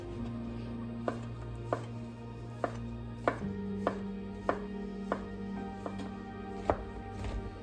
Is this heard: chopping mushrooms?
yes